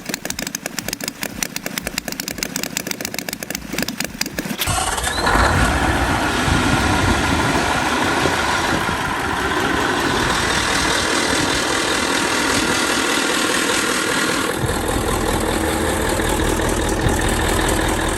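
A small model engine idles with a rapid, even chatter, then settles into a louder, fuller steady running drone that continues without talk.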